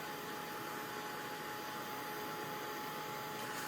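A heat tool blows a steady, even whoosh of hot air to dry a transfer on a wood pumpkin craft, a continuous faint hiss with no breaks.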